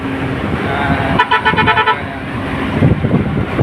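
A truck carrying five vehicles from Batangas Pier gives a short burst of several horn toots, loud and close over steady road and engine noise.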